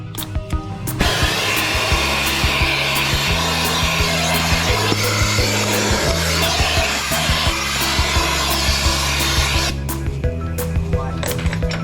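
A shop vacuum roars steadily for about nine seconds while clearing drilling debris from a 350 crankshaft in a workshop, starting and cutting off abruptly over a low machine hum.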